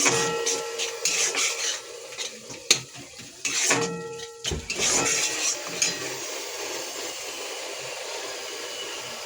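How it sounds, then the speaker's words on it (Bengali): Bottle gourd fries in a pan with scattered clinks and scrapes of a utensil at first, settling into a steady, even sizzling hiss. "এটা এবার একটু ভাজতে দেবো।"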